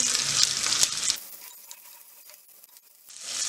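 Small shallots, about twenty of them, frying in a pan for a chutney, with a loud broadband sizzle that drops away partway through and then swells back up near the end.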